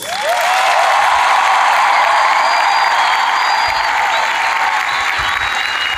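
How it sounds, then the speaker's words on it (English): A huge stadium crowd welcoming a new university class breaks into a loud, sustained round of applause that rings out steadily for several seconds, with a faint tone sounding above the clapping. "Can we give another massive round of applause?"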